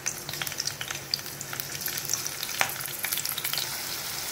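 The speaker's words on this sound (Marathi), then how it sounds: "कढीपत्ता टाकल्याच्या नंतर मी आता याच्यामध्ये कांदा सुद्धा टाकणार आहे फोडणीला।" Onion frying in hot oil in a tempering with curry leaves gives a close, crackling sizzle with sharp pops and occasional stirring scrapes, with no talk.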